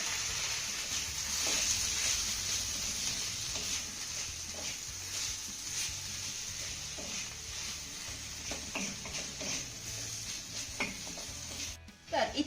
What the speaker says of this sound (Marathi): सर्व साहित्य आपल्याला एक ते दोन मिनटं चांगलं परतून घ्यायचं आहे